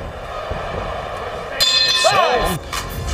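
Boxing round bell ringing out at the end of a round, clanging metallic tones over arena crowd noise and commentary.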